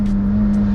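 A Lotus Elise 111R idles while warming up, holding a steady low engine hum with a fixed drone tone, close and continuous over a very short stretch, with no speech.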